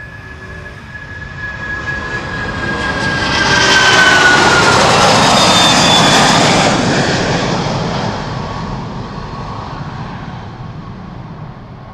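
Cargolux Boeing 747-8 cargo jet taking off at Amsterdam, a broad roaring jet rumble that swells to a loud peak as it passes, then slowly fades while still strong, with no talk over it.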